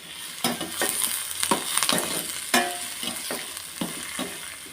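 Tomato and green chillies fry in a pan for a crab curry, giving a steady sizzle broken by several sharp scraping stir strokes; close and moderately loud, with no talking.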